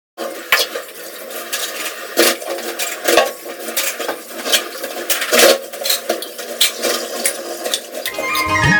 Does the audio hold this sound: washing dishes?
yes